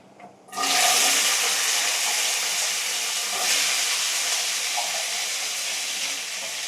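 Food frying in a pan in a home kitchen, a loud, steady broadband sizzle that starts abruptly after a brief quiet moment and continues without a break, with no talking over it.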